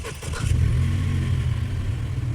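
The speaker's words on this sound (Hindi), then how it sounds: "ये गाड़ी कैसे ऑन हो गई?" A car engine turns over and settles into a steady, loud idle rumble, abrupt and close, alone without voices, as a sudden eerie start in a dark horror setting.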